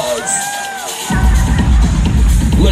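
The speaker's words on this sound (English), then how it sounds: "Give Mother Orici a round of applause." A ballroom crowd at a Pride ball erupts into loud cheering and whooping after a quieter moment with voices, then holds a dense, roaring swell of shouts to the end.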